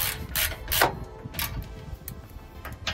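Ratchet clicking while tightening exhaust gasket bolts on a Toyota Tacoma, several short bursts of quick mechanical ticks with pauses between, close and moderately quiet against a low background rumble.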